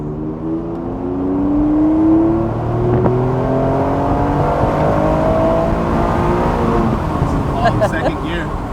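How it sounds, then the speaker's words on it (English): Honda NSX, a 90s sports car, accelerating hard through the gears, its engine rising steadily in pitch with a shift partway through, loud and close from inside the cabin, with someone talking over it. "it just wants you to ring it out more. And it just wants you to get up in the revs"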